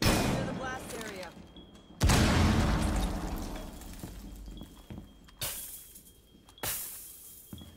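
Explosions in a video game after a bomb defusal and blast-area warning, with a heavy boom at two seconds followed by several sharper bursts, loud and close, each decaying into rumble.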